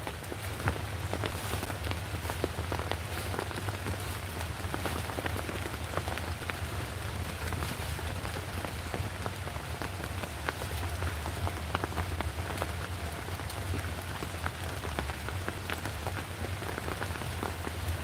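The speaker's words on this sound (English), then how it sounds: "Right now it's raining, as you can hear." Steady rain patters on a shelter deep in North Carolina woods, a dense continuous hiss of drops with scattered sharper taps, constant and close throughout.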